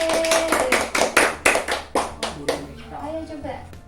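Children's rhythmic clapping game called tepuk olahraga in a first-grade lesson, with a run of about a dozen crisp claps in a quick steady pattern that fades into softer taps, a voice chanting along over them.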